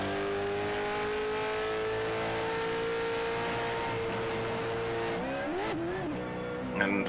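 A race car engine at Phillip Island Circuit in a racing video game screams at high, sustained revs, then drops sharply through a downshift, with a brief tire squeal near the end.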